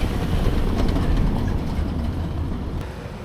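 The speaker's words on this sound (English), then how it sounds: "noticed a charming yellow streetcar that seemed to be carrying tourists up and down the hill" A yellow streetcar on the hillside in Santa Teresa, Rio de Janeiro, gives off a steady, low, rumbling rail noise, moderately loud and continuous, with no talking.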